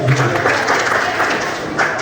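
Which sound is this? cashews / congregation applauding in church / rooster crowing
congregation applauding in church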